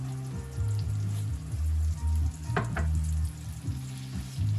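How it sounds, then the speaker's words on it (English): Fresh garlic sizzling in melted butter in a pan, a steady crackling fry with soft stirring scrapes and a brief sharper burst midway, close and moderately quiet. "And as my butter melting, I'll add my fresh garlic."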